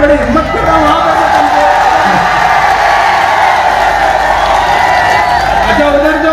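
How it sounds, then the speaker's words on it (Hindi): Audience at a mushaira poetry recital in Karauli gives scattered clapping and cheering with a few whoops, a lively crowd murmur under someone speaking loudly over it. "इतनी कमजोर ताली से मैं बड़ी हिम्मत कर रहा हूं।"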